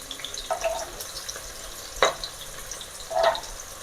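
Gongura chicken curry ingredients sizzle in a pan, a soft frying hiss underneath with three short bursts of stirring and sharp crackles, close and fairly quiet, no talking.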